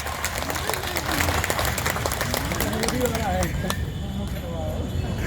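An audience at a political gathering claps to welcome a minister, a dense, continuous patter of applause lasting several seconds beneath an amplified voice speaking over it.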